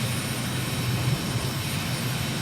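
An aircraft engine drones steadily and evenly throughout while cruising at 5,000 feet over Uganda and flying out of rain. The wash of noise is loud and continuous, with no voices.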